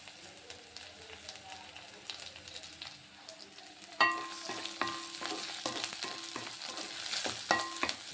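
Green chillies dropped into a pan of frying onions, a quiet background becoming a sudden loud sizzle partway through, with repeated stirring clicks and a steady crackle afterward.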